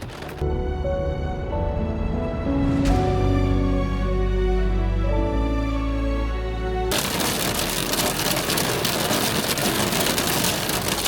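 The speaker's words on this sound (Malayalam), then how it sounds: "പുറത്ത് നല്ല അടിശക് അതിശക്തമായ മഴ പെയ്തുകൊണ്ടിരിക്കുക" Steady, dense hiss of heavy rain pours down in Wales after an opening stretch of loud sustained tones, filling the rest of the clip.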